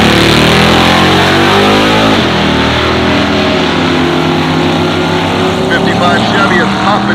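A '55 Chevy and a '70 Chevelle tear down a drag strip in a loud, continuous engine roar with rising revs, while an announcer talks over the noise.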